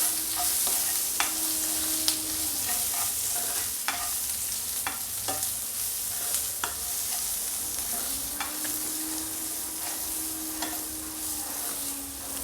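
Soybean manchurian being stirred with salt in a pan, a constant loud sizzle with spoon scrapes and taps at irregular intervals, close up and without speech.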